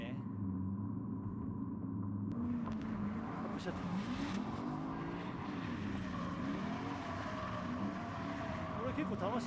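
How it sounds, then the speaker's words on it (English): A Lexus drift car with an automatic transmission accelerates under steady left-foot braking, its engine droning loud and continuous with rising and falling revs and faint tire noise, while a person talks over it throughout. "I want to keep the right foot accelerating while controlling the speed with my left foot."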